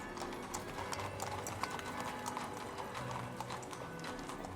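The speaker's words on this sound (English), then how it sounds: "carriages approaching the nearby courtyard" Horse-drawn carriages roll toward the courtyard of Hopwood Hall, hooves clip-clopping in a steady, continuous rhythm under a dense, even wash of background noise.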